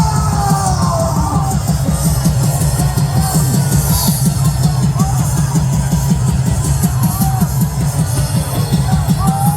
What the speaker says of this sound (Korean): 정명훈 박사님을 기립 박수로 모시겠습니다.